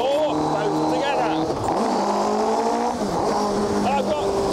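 Twin-engine Tiger Z-100 car running and accelerating, its engine note rising and shifting steadily with road noise throughout, while someone talks over it.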